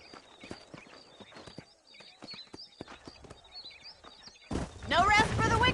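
In the western video game Red Dead Redemption, horses clip-clop outside Armadillo: a run of crisp, irregular hoofbeats over quiet ambience, then a louder burst of voices and noise near the end.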